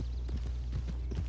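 Horse hooves clip-clop in a steady, close rhythm across the Red Dead Redemption 2 game world, sounding over a constant low rumble with no voices.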